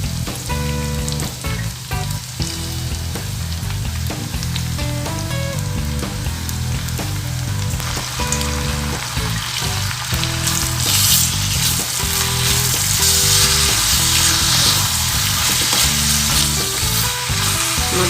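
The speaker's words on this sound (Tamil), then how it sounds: "இப்போ நம்ம மட்டனை போட்டுடலாம்." Small mutton pieces with coconut fry loudly in a pan for Mutton Pallipalayam, a dense continuous sizzle with rhythmic spatula stirring and scraping throughout, close up and without speech.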